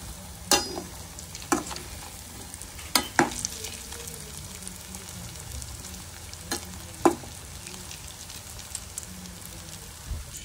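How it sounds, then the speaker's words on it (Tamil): Chana balls deep fry in oil on a medium flame, giving a steady low sizzle and crackle, close by, broken by several sharp scrapes and clinks of stirring, with no talking. "எண்ணெயில் போட்டு நல்லா வந்துட்டு ப்ரௌனிஷாக நல்லா வேகிற அளவுக்கு நல்லா பொன்னிறமாக மீடியம் ஃப்ளேமில் வச்சு பொறிச்சு எடுத்துக்கோங்க."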